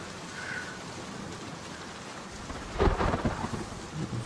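Dense, steady hiss of heavy rain pouring down, with a low rumble of thunder swelling near the end.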